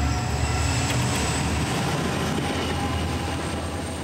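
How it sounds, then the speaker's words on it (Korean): A train rolls steadily past a rural spot in Korea, a continuous loud rumble of railcars and wheels holding even throughout, with no voices. "오, 기차 걸렸네."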